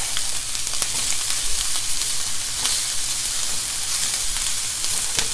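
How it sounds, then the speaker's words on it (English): Fat rendering in a pan for shrimp and grits, a loud, steady close-up sizzle with constant crackling pops and no voices over it. "Basically, we're just rendering the fat out of this"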